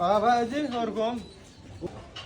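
A pigeon at a pigeon loft gives a throaty, rolling coo up close, followed by a few soft rustles and quiet.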